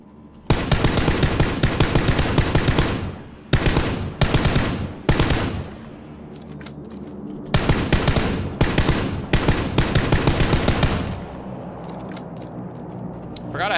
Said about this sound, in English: I forgot I had this SKS, to be honest.